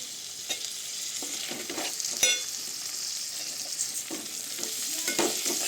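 Tomato pieces sizzle and fry in a hot pan for an egg and dried fish curry, a steady broadband crackle broken by a few stirring scrapes, close and moderately loud with no talking.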